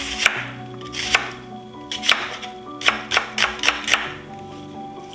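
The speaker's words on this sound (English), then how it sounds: "Just roughly chop it." A knife roughly chopping a whole onion on a board, about a dozen sharp, close thuds in an uneven rhythm that bunch together toward the end, with no talking.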